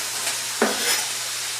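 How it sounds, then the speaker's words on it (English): Onion going into a hot pan for a hamburger potato casserole, a loud steady sizzle that holds throughout with a brief sharper crackle as it lands, close and alone. "So let's put the onion in this pan."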